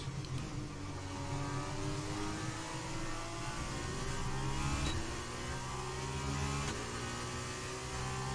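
F2 race car engine in the Breaking Point 2 racing game, a steady high-pitched whine with layered harmonics that climb gradually as it accelerates, loud and continuous with no talk.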